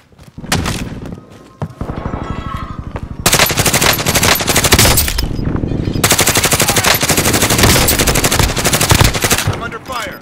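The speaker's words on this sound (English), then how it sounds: "I'm under fire." Dense automatic gunfire from the Warzone battle royale video game, with rapid submachine gun bursts stuttering early on, then two long sustained stretches of loud continuous firing, with brief voice chatter underneath.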